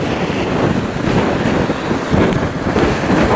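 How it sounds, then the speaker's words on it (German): Strong wind and choppy waves on a boat trip near Malmö, a loud, continuous broadband roar of wind buffeting the microphone over rushing water, with no voices. "Es ist heute ein bisschen mehr Wellengang, ein bisschen mehr Wind."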